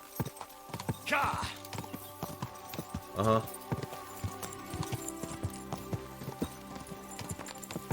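A horse rides along in the Kingdom Come Deliverance 2 video game, its hooves clip-clopping in a steady rhythm with a couple of louder snorting bursts. Someone briefly speaks over it.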